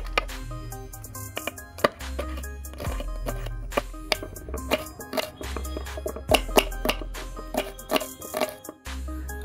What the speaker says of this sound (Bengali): চলুন আমরা সবজিটাকে কেটে নিচ্ছি